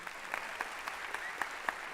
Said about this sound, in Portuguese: uma salva de palmas pros meus amigos da Insider